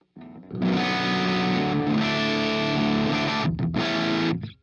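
Electric guitar played through the high-gain red channel of a FLAMMA preamp, a loud, sustained distorted chord ringing steadily for several seconds, briefly choked near the end and struck again.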